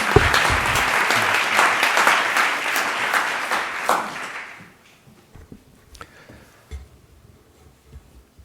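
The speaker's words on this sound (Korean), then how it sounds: "큰 박수로 맞아주시기 바랍니다" An audience at a Catholic university vision ceremony claps loudly and steadily for about four seconds. The applause then fades into a quiet room with a few scattered taps and small noises.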